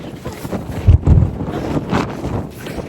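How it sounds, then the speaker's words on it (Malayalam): Strong wind buffets the microphone at about 2,500 m high in the Austrian mountains, in heavy low gusts that peak near the middle. "കാറ്റ്."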